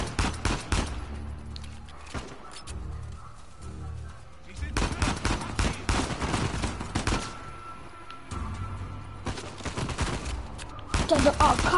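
Bursts of AK-47 automatic fire in the video game Uncharted 4 rattle repeatedly throughout, loud and close, with pauses between volleys and voices talking underneath.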